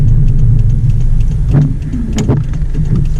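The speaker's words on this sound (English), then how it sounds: "All it does is speed up the blinker action." Subaru WRX turn signal clicking rapidly, several sharp ticks at a quick pace over a steady low engine idle.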